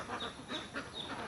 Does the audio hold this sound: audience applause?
no